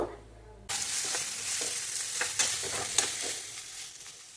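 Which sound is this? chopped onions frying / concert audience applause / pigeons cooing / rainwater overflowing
chopped onions frying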